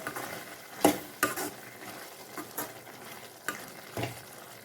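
Fenugreek leaves stirred in a pan with water, a low sizzle, a few sharp scraping knocks of a utensil against the pan at irregular intervals.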